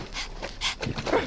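A chow chow rescue dog pants close by in quick, rhythmic breathy bursts, several short huffs in a row with a faint whimper-like edge.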